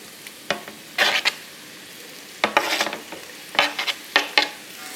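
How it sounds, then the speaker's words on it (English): Pork with diced white onion in bacon grease sizzles in a skillet, a soft constant hiss punctuated by several bursts of scraping and clattering as it is stirred around the pan. "I'm gonna stir this so it's evenly distributed on the pan."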